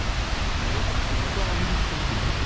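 A waterfall pours in front of a cave, a loud, steady broadband rush of falling water filling the whole short stretch with no breaks.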